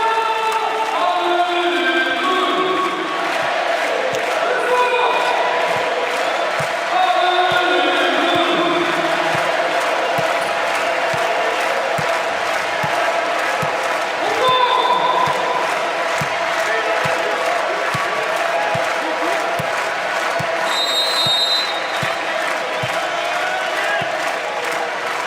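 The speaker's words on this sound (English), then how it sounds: "Is certainly getting the crowd going." Volleyball arena crowd at a France vs Brazil men's Nations League 2018 match cheers, whoops and claps in a steady roar, with a commentator's voice and scattered thumps over the top.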